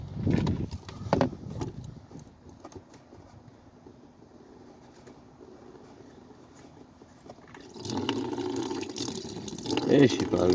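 Coolant draining from the radiator of a BMW E46 during a cooling system rebuild, a low steady trickle and splash into a bowl that grows louder and fuller near the end, with some talk at the start.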